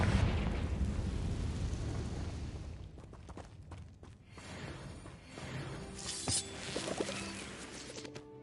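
A Confringo fire spell explodes in the video game Hogwarts Legacy, opening with a loud rumbling blast that decays over a few seconds, followed by scattered crackles and bursts of combat.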